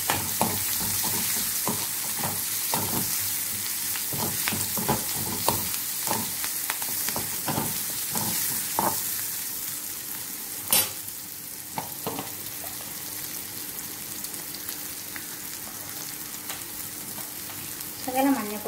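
Dried red chillies crackle and sizzle in hot oil with curry leaves while a Kerala-style spicy beef curry is cooked, a steady frying hiss broken by sharp pops and occasional stirring.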